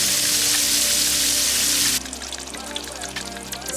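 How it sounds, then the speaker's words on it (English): Food frying outdoors in hot oil, a loud, dense sizzle that runs for about two seconds, then drops to a softer crackle with scattered pops and spits. "Guys, I fry all my food outside."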